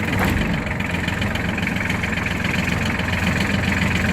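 A used ISEKI Sial 223 Japanese mini tractor runs steadily, its small engine giving a continuous close, loud chugging drone with a faint knocking rhythm throughout.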